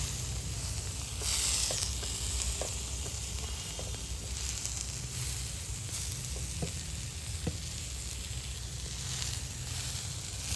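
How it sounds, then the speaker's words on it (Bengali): Fish sizzles steadily in a hot pan without oil, a constant close hiss with occasional small pops and scrapes. "বিনা তেলে মাছ ভাজা"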